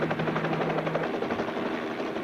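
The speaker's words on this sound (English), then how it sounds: "I think I can hear the helicopter." A helicopter's rotor thuds steadily in rapid pulses, loud and continuous, with a low engine hum under it.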